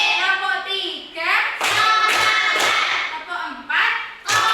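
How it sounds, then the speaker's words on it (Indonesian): A classroom of children claps hands together in counted bursts of one, two, three rhythmic claps, loud and close, alternating with a teacher's voice calling the count. "Tepuk 1, tepuk 2, tepuk 3,"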